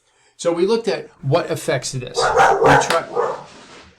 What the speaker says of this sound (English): My dog is adding commentary to the video as another dog brazenly walks by